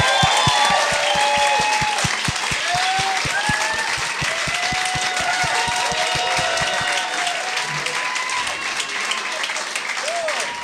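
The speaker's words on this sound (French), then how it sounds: "J'aimerais ça qu'on leur donne une bonne main d'applaudissement" A studio audience on a French-language talk show claps steadily for two arriving comedian guests, a dense, loud wash of applause with scattered whistles and whoops that thins slightly toward the end.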